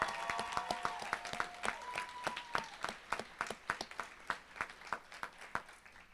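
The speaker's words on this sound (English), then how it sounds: "let's give them a round of applause." Audience applauding at a school convocation, a steady crowd of claps with sharp individual hand strikes standing out, mid-distance, alongside a brief tonal whistle or cheer near the start.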